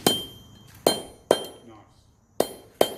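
A hammer strikes steel being forged into a flint striker, five sharp ringing metallic blows at uneven intervals, close and loud, each decaying quickly with a bright clink.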